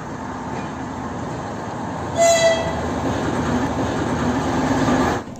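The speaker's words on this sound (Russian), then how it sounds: "Посмотрим видео с мотовозом." A motor railcar runs along the track with a steady, loud rumble, and a brief horn toot sounds partway through over the continuous rolling noise.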